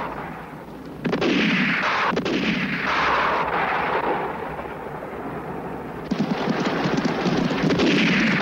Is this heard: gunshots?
yes